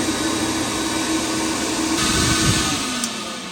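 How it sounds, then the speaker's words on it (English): A shop vacuum air cleaner runs in a garage, a loud steady whining roar with a low motor hum that holds constant, brightening slightly midway before easing off near the end. "So the vacuum, super nice upgrade."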